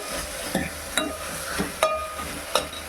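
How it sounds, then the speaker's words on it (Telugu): Okra pieces stirred in a pot for okra stew, giving a soft sizzle broken by about six scraping, clattering strokes of a spoon against the pot. "ఇప్పుడు ఇవి కూడా ఒకసారి ఇలా బాగా కలుపుకోవాలండి"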